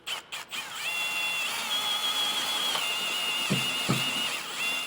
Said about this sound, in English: So now we're going to switch to our 21/64 and go ahead and drill that hole the rest of the way out.